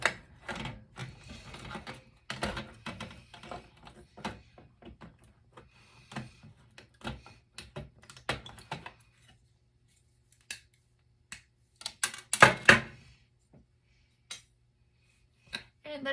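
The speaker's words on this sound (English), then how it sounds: "I'll take the aluminum off." Aluminum shielding is being pulled and pried off a Hewlett Packard computer during a teardown, giving irregular metallic clicks, snaps and rattles in scattered bursts with quiet gaps, the loudest cluster arriving late.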